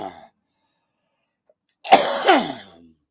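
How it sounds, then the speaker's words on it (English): A man, a smoker, gives one harsh, raspy cough with a throat-clearing edge, loud and close after a brief silence. "Excuse me, I have to cough."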